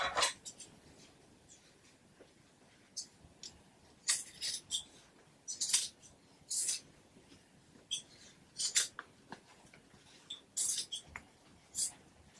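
Scissors cutting through fabric in a straight line for a sewn jumpsuit, a string of short crisp snips and rustles in irregular bursts, close and fairly quiet, with no one talking.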